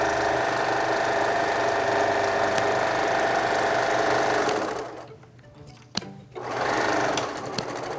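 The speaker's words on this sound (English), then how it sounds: "I sew the cone of the hat inside out." A sewing machine stitches the quilted cone of a witch's hat, running loud and steady with a dense mechanical whir, then stopping briefly before starting up again near the end.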